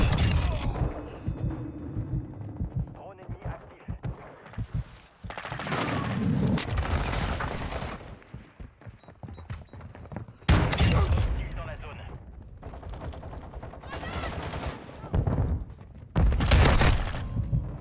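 Bursts of gunfire and sharp impacts from the video game Call of Duty MWII, arriving in clustered volleys over game noise while a French-speaking voice talks.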